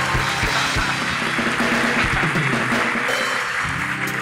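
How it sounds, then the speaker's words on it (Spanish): Loud, sustained audience applause fills a live talk show studio in Spanish, a dense unbroken wash of clapping with a few sharper claps near the start. "fuerte el aplauso"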